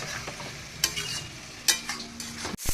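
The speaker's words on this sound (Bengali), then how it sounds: "এটাও এখন চিকেনের সাথে ভালো করে কষবে।" Chicken with ground spice paste stir-fries in a pan, with a soft sizzle under repeated sharp scrapes and knocks of a spatula against the pan, spaced irregularly and close by.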